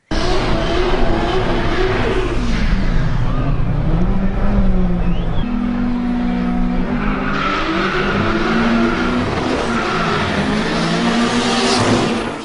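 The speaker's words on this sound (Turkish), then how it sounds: "Yarışçılar tekerleklerin kaymaması için başlangıç çizgisinde lastikleri defalarca ısıttı." Drag racing cars at a Konya drag event start line spin their tires to heat them, giving loud, continuous engine roar with rising and falling revs and tire squeal throughout.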